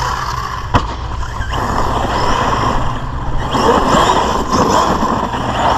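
An Arrma Big Rock 6S RC car, its front held together with gorilla tape, drives outdoors with a loud, steady electric motor whine and rumble, plus a sharp knock near the start.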